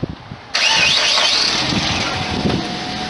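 A Suzuki car engine cranks and catches after a short pause, then settles into a loud, steady idle close by.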